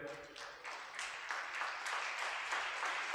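A church congregation at a St. Sebastian feast novena service claps in thanks, a fairly quiet, pulsing patter of many hands lasting a few seconds.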